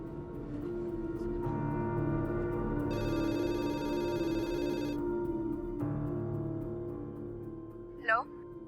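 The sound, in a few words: telephone ringing while redialing a call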